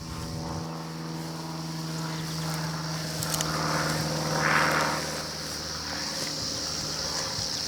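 A small plane searching for a rhino during a drought gives a steady droning propeller hum throughout, swelling slightly midway as it passes overhead.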